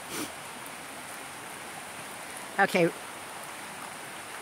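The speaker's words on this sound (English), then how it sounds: "That water's awful fast." Swollen, fast-flowing muddy creek after rain, a steady broadband rush of water heard close by and continuous throughout, with someone speaking briefly over it.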